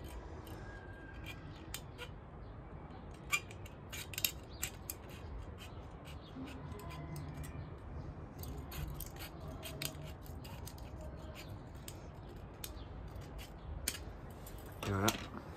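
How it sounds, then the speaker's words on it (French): Scissors make sharp, sparse snips, faint and close, against quiet room noise while a bottle-cap spinning top is cut out in a solid-waste reuse workshop. "Là aussi il suffit de couper bien net"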